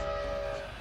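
A train rumbles past a railroad crossing with the gate down and lights flashing, a loud, close, sustained roar with a steady tonal horn-like hum running through it.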